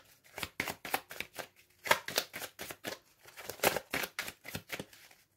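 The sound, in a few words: tarot cards being cut and shuffled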